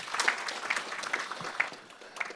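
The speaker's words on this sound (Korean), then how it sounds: "다시 한번 큰 박수 부탁드리겠습니다" Audience applause at a Jeju economic forum after a lecture ends, moderately quiet and steady with scattered brighter claps, no talking over it.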